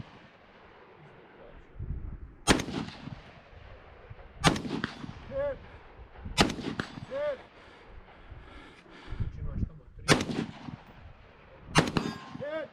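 Rifle shots ring out at steel targets in a multigun match at West End Gun Club, fired from a barricade with a light-triggered CMC rifle: sharp loud cracks with metallic ringing, often in quick pairs, spaced a couple of seconds apart over steady outdoor background.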